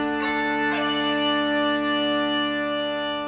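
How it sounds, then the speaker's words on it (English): Bagpipes playing a sustained drone with a bright, reedy chanter melody layered on top, loud, close and continuous for a few seconds with no talking. "bagpipes sound like this."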